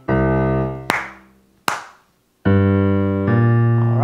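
Two sharp hand claps between sustained piano chords in a beginner blues lesson, close and bright, each clap ringing briefly before the chords resume.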